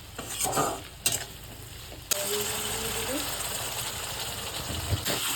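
Cumin powder stirred with spices in a frying pan for black pepper chicken, a steady sizzle with scraping spoon strokes, close and moderately loud, broken by a short pause early on.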